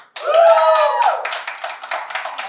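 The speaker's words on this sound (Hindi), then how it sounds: "ठीक है तो इस बात को इधर ताली मारो" An audience at a Radio Mirchi celebrity event claps on cue, starting with a loud burst of applause that thins into scattered claps over a couple of seconds, close by.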